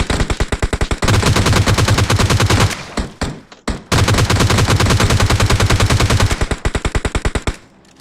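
Automatic gunfire in a shooter video game, loud and close, with long rapid bursts of rattling shots, a brief pause, then another sustained burst ending in separate trailing shots.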